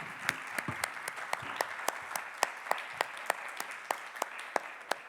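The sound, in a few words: audience applause for the panelists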